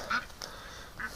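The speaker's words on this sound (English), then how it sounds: "The ducks are all upset, eh?" Ducks quacking in short, faint bursts at a distance, a few calls spaced apart over low outdoor background noise.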